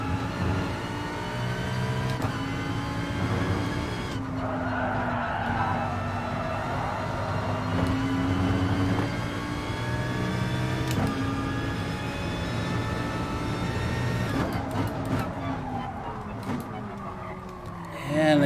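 A Gran Turismo Sport race car, a GR3-class machine, sustaining a whining engine note with tonal tire squeal as it brakes and corners; the sound stays near and steady with gear changes and a sharp burst at the end.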